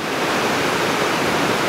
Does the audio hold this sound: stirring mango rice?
no